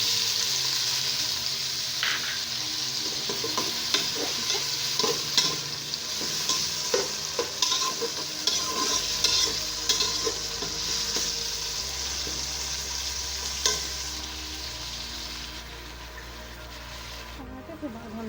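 Onions frying in a pan during home cooking of a dal and saag dish, a steady bright sizzle with stirring clatter and scrapes running throughout, close and continuous.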